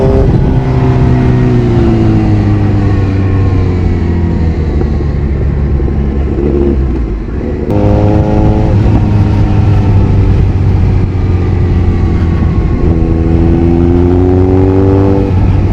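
Motorcycle engine held under throttle through a corner, a loud close sustained drone whose pitch sags as the rider brakes and gears down, then climbs again as power comes back on.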